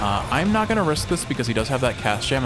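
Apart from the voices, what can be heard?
No everyday noises stand out.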